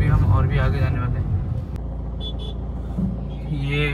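Car driving slowly along a flooded road during floods in Odisha. A steady low engine and water rumble runs throughout, beneath someone talking close by.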